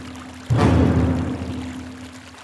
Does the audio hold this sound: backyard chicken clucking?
no